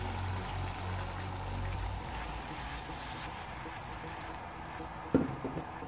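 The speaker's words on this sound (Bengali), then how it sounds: "ওখানে আমি জলটা দিলে নিব।" Water is poured into a pan of cucumber and prawn curry, a soft rushing pour that fades into a quiet simmer, with a single sharp clunk near the end.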